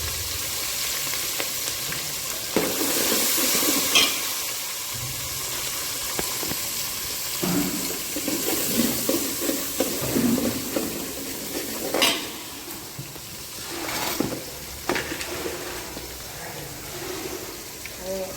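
Cumin, masala and curry leaves sizzle in hot oil in a pan while being stirred, a steady frying hiss with repeated scrapes and clinks of a spoon against the pan, and a voice talking intermittently.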